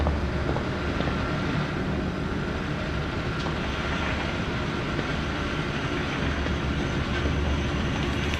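A train rolls along in the Zoochosis zoo game, a steady low rumble with a broad wash of noise that holds evenly from start to finish, with no voices over it.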